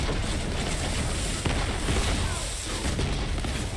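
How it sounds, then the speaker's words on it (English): A rocket launcher fires in the video game Borderlands 3, heard as a dense, continuous roar of booming blasts and rumble with a sharper burst partway through, loud and without talk. "Try out this rocket launcher."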